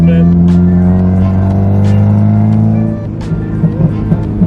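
A B-swapped Honda Civic with a custom exhaust revs lightly, its raspy engine note holding a steady drone, then easing off into short blips, loud and close, with no speech.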